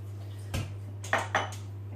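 Three light clanks of a metal lid on a cooking pot of boiling water, one then a quick pair, over a steady low electrical hum.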